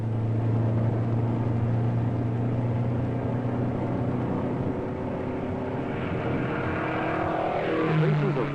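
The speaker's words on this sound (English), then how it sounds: "seeing this research car put through its paces for the first time" A 1962 Ford Mustang research car, rear-exhausting, roars steadily past during test driving, its engine note droning loudly then shifting in pitch as it moves away near the end, with no talking.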